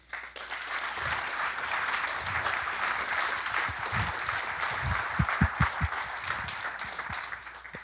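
Conference audience applauding at a robotics developer event in Madrid, a steady, dense wash of clapping from a large crowd that holds evenly for several seconds, with a few louder close claps near the end.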